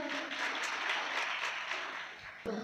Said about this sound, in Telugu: ఒకసారి ఒకసారి గట్టిగా చప్పట్లు కొడదాం